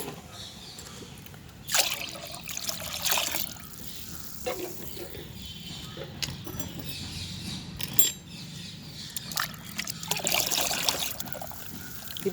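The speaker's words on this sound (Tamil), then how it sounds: "மூணு மடங்கு தண்ணி நான் கலந்துட்டேன்." Water splashes and trickles into a container in quiet bursts as it is poured and mixed into a homemade plant fertilizer, close by and soft, with brief pauses between pours.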